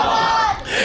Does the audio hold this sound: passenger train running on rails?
no